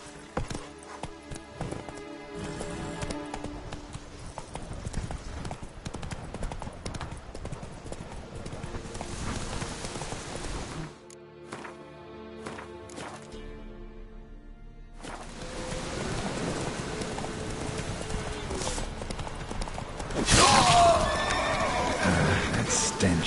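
A horse gallops and neighs in The Witcher video game on the Islands of Skellige, rhythmic hoofbeats clattering under game sound, with a clear loud whinny near the end.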